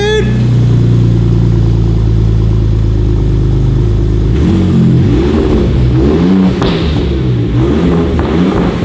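Ford F150 Raptor engine fitted with an AWE exhaust revs hard, a loud, close deep roar with rising and falling throttle blips after a steady idle-like drone, with a voice briefly audible.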